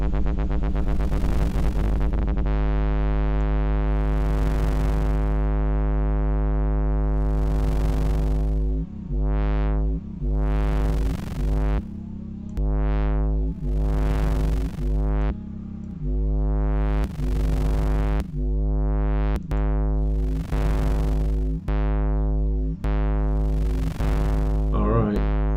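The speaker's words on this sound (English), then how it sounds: "So the sine wave output, if in doubt go with sine waves," Sine wave tones from a modular synthesizer, loud and steady, with a low drone under a run of separate pitched notes that rise and fall in glides, rhythmic pulses and gaps, with no voices.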